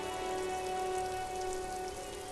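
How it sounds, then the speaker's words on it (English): Rain falls in the video game Disco Elysium as a steady, soft patter over a sustained humming musical drone, with no voices. "Rain falls down on the world."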